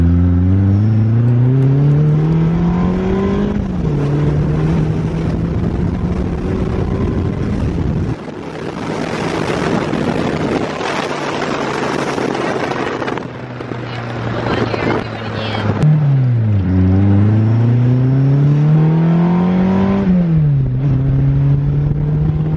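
A RWD K24-swapped Subaru Impreza on its first test drive, the engine rising and falling through several loud pulls and gear changes, with a noisy stretch of road and wind rush in the middle and a person talking throughout.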